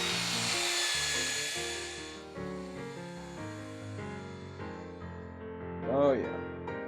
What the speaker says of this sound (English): You want to be buffing a wet surface,